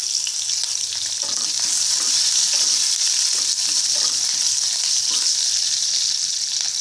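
Cumin and two cut green chilies hitting hot oil with mustard seeds for potato poha, a loud, steady, close sizzle with scraping stirs, no voices.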